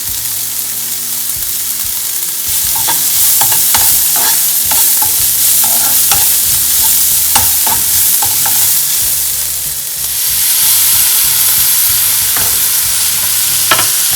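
Onions sizzle steadily in a pan for baingan bharta, with a spoon scraping and tapping as they are stirred, close and loud with no talk.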